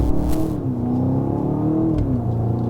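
A 2024 BMW X5 M Competition SUV accelerates, its engine note rising and sliding through a steady, loud revving pull heard from inside, with no talking.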